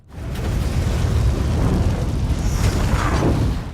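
An explosion in a tornado storm movie scene, turning the twister into a fire tornado: a loud, sustained, rumbling roar that swells in and holds for several seconds before fading.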